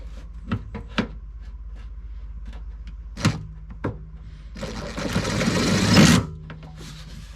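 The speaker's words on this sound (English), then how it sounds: "So now I just got to get this guy screwed down. And we'll do that with a good old self-tapper." A self-tapping screw being driven into a car, with a few short clicks and knocks first, then a loud, close buzzing drive of about two seconds before it cuts off and quieter handling noises follow.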